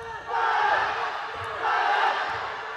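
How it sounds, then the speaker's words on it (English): Crowd at a wushu Nanquan competition cheering and shouting in two loud swells, a broad roar that rises, dips briefly, then builds again. "Amazing crowd. Yeah,"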